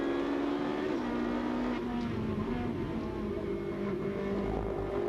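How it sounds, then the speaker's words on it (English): A Coppa Shell race car at Monza holds a steady, droning engine note, with a few pitch shifts as gears change, heard continuously and moderately distant with no talk. "Just let you hear the engine note for a moment."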